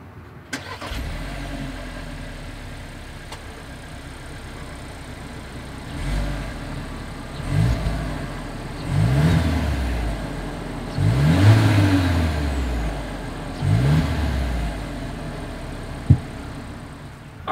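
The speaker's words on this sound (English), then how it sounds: "As always, here is that exhaust clip." A 2022 Volkswagen Taos exhaust starts up, then idles and revs in several rising bursts, fairly close and clear, with no talking.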